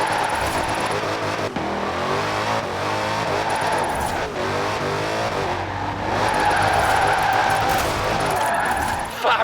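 Car drifting through a turn in Forza Horizon 4, its engine revving and tyres sliding loudly and continuously, with a voice talking over the steady engine roar.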